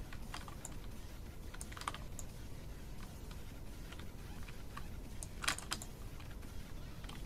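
Keyboard typing during a Rocket League match: steady clicking and tapping of keys at a quiet, even level, with a few sharper key hits toward the end and no voices.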